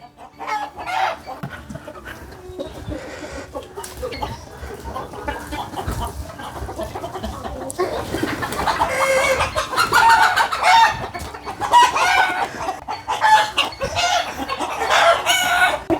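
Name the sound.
chickens clucking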